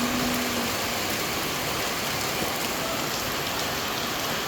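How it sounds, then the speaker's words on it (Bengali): Rain pouring down steadily on nearby surfaces, a dense, even hiss that fills the whole stretch without a break, fairly loud and with no voices. "বৃষ্টি শুরু হয়ে গেছে।"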